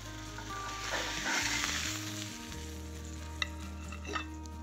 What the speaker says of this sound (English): a quick 30-second sear is all it should really need